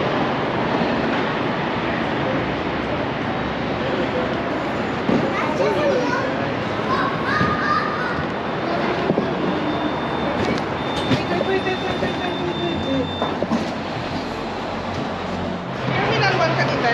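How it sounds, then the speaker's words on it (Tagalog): Train ride to the airport, a steady rumble and clatter of the rail car throughout, with a thin tone appearing midway and people talking over the noise. "sasakay kami ng train papunta ng airport"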